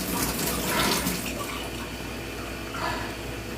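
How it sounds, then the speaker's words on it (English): Cold water runs steadily from a kitchen tap into a measuring cup, a continuous rushing pour with a slight swell in the middle and no talking over it. "let's add some water."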